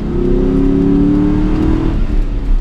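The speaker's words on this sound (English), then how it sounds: "the tires are definitely squealing and letting me know that they're like, help me, please" An SN-95 Ford Mustang GT cornering hard on a back road, its tires squealing in a sustained high whine over the loud engine drone, close and continuous, fading slightly near the end.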